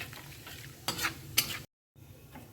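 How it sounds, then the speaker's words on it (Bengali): Cumin, small cardamom, cinnamon and a bay leaf hit hot oil for pulao, giving a brief crackling sizzle with a couple of sharp stirring bursts before a short silence, close and moderately loud. "এখানে সাদা জিরা দিয়ে দিলাম, কয়েকটা ছোটো এলাচ, একটু দারচিনি আর একটা তেজপাতা দিয়ে দিলাম"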